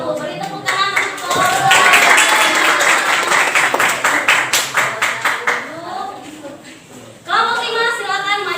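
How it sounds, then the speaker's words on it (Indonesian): Classroom applause from a group of students, a dense burst of clapping that thins into scattered claps, then picks up again briefly near the end, with voices mixed in underneath. "Beri tepuk tangan untuk"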